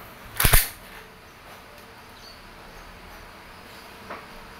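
A WE Glock 17 Gen 5 airsoft pistol fires one sharp, loud, close report, followed by a much fainter click a few seconds later.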